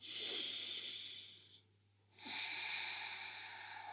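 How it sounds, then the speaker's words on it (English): A person breathing during a yoga flow, with a long close breathy exhale, a short pause, then a steady audible inhale through the nose. "Take a breath in."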